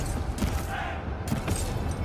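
Dense massed gunfire rolls through a battle in the strategy game Total War: Pharaoh, a steady crackling barrage with repeated louder bursts filling the whole span.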